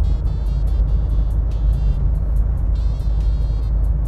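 Inside a Mitsubishi Pajero Sport cruising at 80 km/h on smooth asphalt, a steady low road and tire rumble fills the cabin with a constant drone, faint higher whines running above it and no one speaking.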